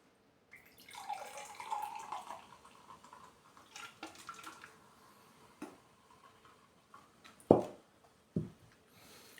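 Monster Energy Ultra Fiesta Mango energy drink poured from a can into a glass, a soft liquid trickle running for several seconds, ending with two sharp clinks near the end.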